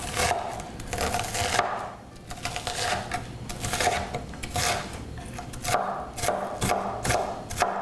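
A knife chops onion pieces on a cutting board while preparing beef-and-cheese-stuffed arepas, with a steady run of close, crisp, irregular taps, no talking.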